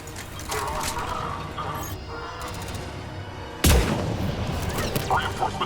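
Heavy gunfire in the Mass Effect 3 video game as a pod comes under attack, a dense continuous barrage with a sudden loud blast midway, under radio-style voices.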